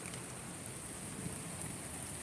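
Light, steady rain falls during a thunderstorm with lightning behind a mountain, a faint, even hiss of moderate rainfall heard from a distance, with no talking.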